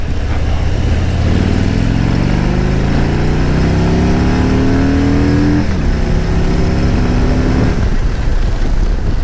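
A Harley-Davidson Road King motorcycle accelerates hard up a freeway on-ramp, its engine note climbing steadily through the gears with a loud, close, continuous roar and wind rush, no voices.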